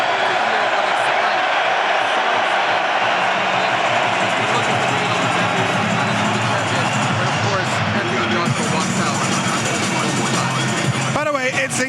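A British boxing stadium crowd roars as Oleksandr Usyk appears on the big screen, a loud, sustained wall of cheering and babble that stays dense throughout.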